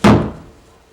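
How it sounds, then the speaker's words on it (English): A single heavy thunk of a fist striking through a wooden door, a radio drama sound effect, hits hard and close then decays over under a second, with no voices. "I got so mad I put my fist right through that damn door, like this"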